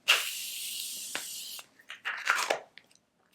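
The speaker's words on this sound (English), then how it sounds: "I'm gonna spray with my Morphe spray" A long hissing burst of Morphe makeup setting spray, close by, followed by a couple of shorter spritzes.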